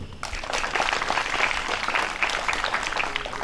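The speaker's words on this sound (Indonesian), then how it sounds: "Mari kita tepuk tangan untuk Tuhan Yesus dulu." A church congregation at an evening worship service applauds together, a dense, steady wash of many hands clapping that starts abruptly and holds at full strength throughout.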